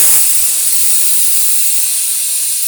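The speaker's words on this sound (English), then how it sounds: "we'll let all that pressure go down and steam all out" A Carey DPC-9SS pressure cooker canning bone broth releases its pressure in a loud, close, continuous hiss of steam that starts abruptly and holds steady throughout, with no voices.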